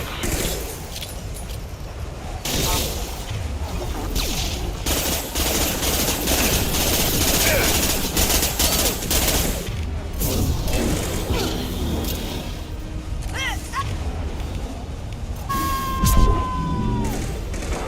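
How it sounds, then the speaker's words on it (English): Dense, rapid gunfire rattles through a firefight in Mass Effect Legendary Edition, with bursts of shots over a constant roar of battle noise and brief voices calling out. "Taking fire."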